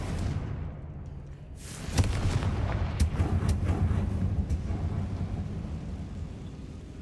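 A Confringo fire spell in Hogwarts Legacy bursts with a booming blast, followed by a sustained rumbling roar and crackling debris that lingers loud for several seconds.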